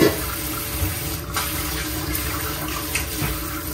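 A kitchen tap runs steadily while pig intestines are being washed, a constant close splashing hiss with faint clatter and no speech.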